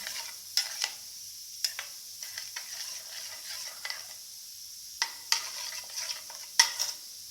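A tamarind rice mixture being stirred in a bowl, heard as sparse, close scraping and clinking strokes with quiet gaps between them, irregular and soft against an otherwise still room.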